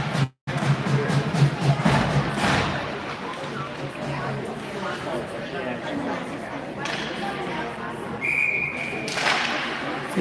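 A short, high referee whistle tone cuts through loud arena crowd noise and play-by-play commentary near the end of an under-11 ice hockey game.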